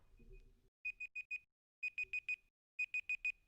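A timer alarm goes off during a live trap-beat session in Cakewalk, sounding as three bursts of four sharp, even electronic beeps separated by short pauses, loud and with no talk over it.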